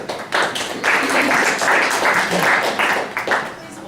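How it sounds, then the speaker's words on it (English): An audience applauds in a presentation hall, a burst of many hands clapping that swells and then tapers off over a few seconds, with voices faintly underneath. "Please hold your applause until the end"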